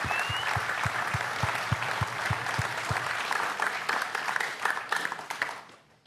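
Audience applause in a live developer panel hall for a space game, dense steady clapping that holds loud for several seconds, then thins and fades toward the end.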